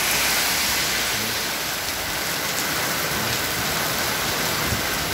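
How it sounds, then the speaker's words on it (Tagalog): Heavy rain pouring down in a dense, constant roar with no pauses, close and loud throughout. "Grabe ang ulan."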